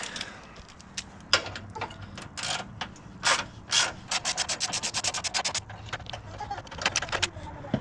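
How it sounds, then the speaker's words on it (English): Hand tools work on 10 mm bolts of a Ford 5.4 Modular engine during a cooling system rebuild: irregular scraping and rubbing, then a fast run of rapid ratchet clicks near the middle, close up with no speech. "What I gotta do first is take these 2 bolts out. It will be a 10 millimeter."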